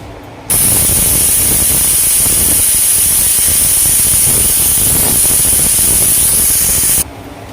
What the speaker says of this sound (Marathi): इथे कुकरच्या तीन शिट्ट्या झाल्या